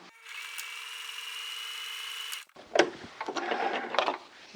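A sewing machine runs in one steady whirring burst for about two seconds while stitching 1 cm seams on the cuffs of a stand-collar blouse. Then it stops, followed by close fabric rustling and handling.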